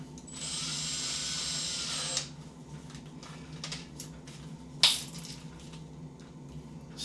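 A power drill whirs at high speed for about two seconds, then stops, followed by quiet handling noises and a sharp clatter.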